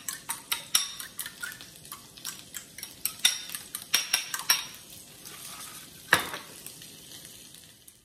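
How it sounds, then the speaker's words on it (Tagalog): Eggs whisked in a bowl for a Filipino ground-meat torta, a run of quick, evenly spaced clinks of utensil against dish, close and fairly loud, slowing near the end with one sharper knock. "Ibati na itlog."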